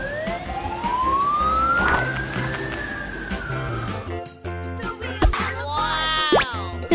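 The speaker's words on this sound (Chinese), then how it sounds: "救护车" A toy ambulance siren wails in a long rising and falling sweep, then gives way to quicker warbling electronic tones, close and moderately loud with no talking.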